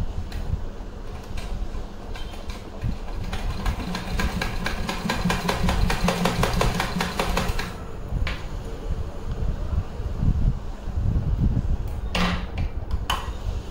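A domestic sewing machine runs a double line of stitching on a choli, its needle hammering in a fast, steady, close-up rhythm for several seconds, then giving way to softer clicks and handling.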